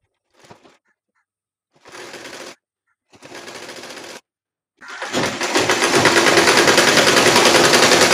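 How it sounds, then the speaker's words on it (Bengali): A sewing machine stitching pajama fabric runs in short start-stop bursts, then settles into a steady fast whirring run, close and fairly loud. "আমি এই সাইডটা ওইভাবে সেলাই করে নেব।"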